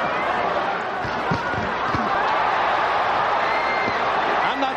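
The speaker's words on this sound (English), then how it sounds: "Crowd trying to chant" A big arena crowd at the Lennox Lewis versus Evander Holyfield heavyweight boxing match roars in a dense, continuous wash, with scattered shouts and thumps and a ragged attempt at a chant, heard at a distance, while a commentator talks over it.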